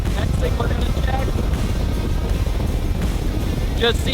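A loud, steady Caymas CX19 motorboat engine drones on plane at lower cruising speed under rushing wind and water noise, with brief snippets of voice breaking through.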